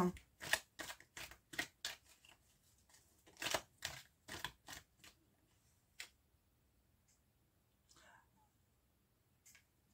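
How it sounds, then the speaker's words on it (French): Tarot cards being reshuffled by hand, a quick burst of crisp riffling clicks and slaps close up for several seconds, then a few isolated taps and quiet handling, with faint whispered talk in between. "Alors, je vais rebrasser un petit peu."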